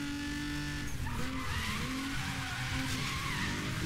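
Nissan GT-R in the racing game Need for Speed, with a sustained engine roar and tire squeal skidding through corners, loud and continuous.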